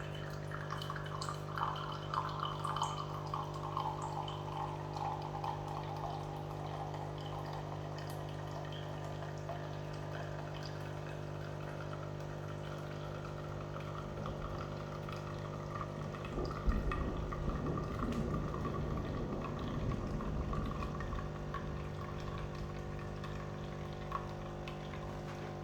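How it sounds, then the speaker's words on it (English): Neff coffee machine brewing an XXL coffee, a steady low hum and pump drone with liquid trickling and a gurgling surge partway through, close and continuous. "It's giving an XXL coffee, making the coffee."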